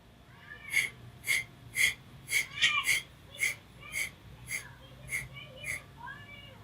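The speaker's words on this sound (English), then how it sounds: "And then Kapalabhati breathing." Forceful Kapalabhati yoga breaths, about a dozen sharp, evenly spaced nasal exhalations in a steady rhythm, close and fairly loud, with no talking.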